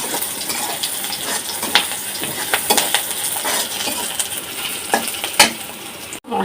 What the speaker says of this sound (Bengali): মশলা কষানো হতে থাক